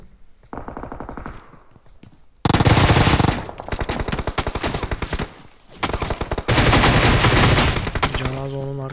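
Loud, close automatic gunfire in the shooter game PUBG Mobile rattles in dense rapid bursts, with a quieter stretch at the start and heavy sustained volleys through the rest.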